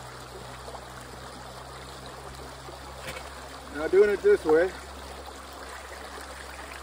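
Water rushes steadily through a sluice mat as material is run through it, a constant broadband wash. A voice talks over it and a few louder splashy surges come near the middle.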